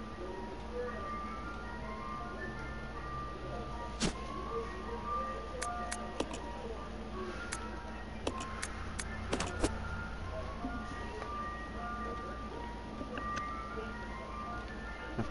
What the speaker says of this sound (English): Of course, the ice cream truck has to roll around now